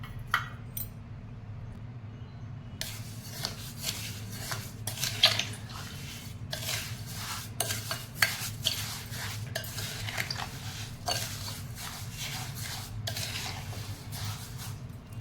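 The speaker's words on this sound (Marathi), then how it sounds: "आता हे मिश्रण एकत्र करून मिक्स करायचं आहे" A lemon juice, sugar and salt mixture is stirred together in a metal vessel, giving steady scraping and light clinking of a spoon against the pot throughout, fairly quiet and without talk.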